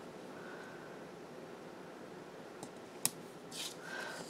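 Scissors cut paper while a weekly faith planner is assembled: faint, sparse snips in a quiet room, with one sharp crisp cut standing out near the end.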